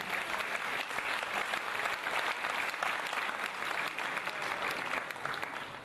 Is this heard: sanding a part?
no